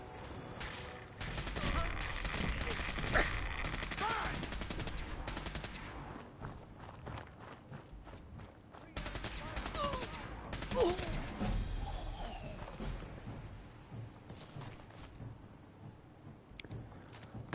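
Video game gunfire rattles in long sustained bursts of rapid automatic shots, loud and near, with a pause between volleys and some talking mixed in.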